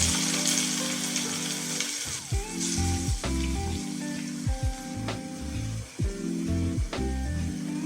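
Tomatoes tipped into a pan of frying onions and browned garlic, with a steady loud sizzle throughout broken by several sharp clacks and scrapes of a utensil against the pan.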